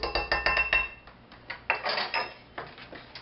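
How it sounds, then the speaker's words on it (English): Cocoa tipped from a measuring cup into a pan, heard as a quick series of sharp metallic clinks and taps from the cup against the pan, close and fairly loud with short pauses between bursts. "I'm going to measure out my cocoa and dump that in"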